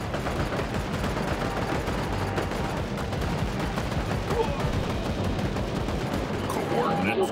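Sustained gunfire in a World War Armies battle game, dense and continuous throughout with rapid bursts under general battlefield noise, close and loud.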